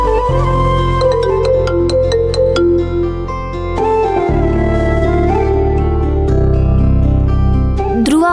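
An incoming phone call rings with a steady melodic ringtone, loud and close, repeating tonal phrases with no talk over it.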